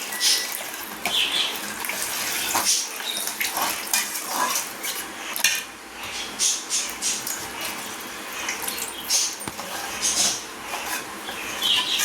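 Tamarind water poured into a pan of sautéed small onions for onion puli kulambu, a steady splashing, trickling pour with faint metallic pan clinks, close and continuous throughout.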